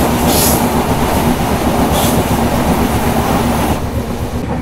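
A Himsagar Express passenger train rolls loudly along the rails in India, a dense, close, continuous rumble with faint clickety-clack and no speech.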